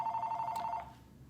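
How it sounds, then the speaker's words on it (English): A house landline telephone rings in a quick warbling trill for just under a second, close and fairly loud, then breaks off into quiet room noise. "Sorry, that was my house phone."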